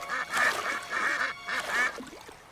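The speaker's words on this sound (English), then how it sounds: "She liked watching the ducks. They quacked and quacked." Several ducks quack in short repeated bursts, fairly close and loud, with brief pauses between the calls.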